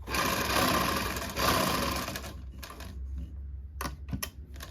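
A sewing machine stitching a seam on a kurti runs in a loud, steady whirring burst, then stops and restarts in short broken spurts, close to the listener with no talk.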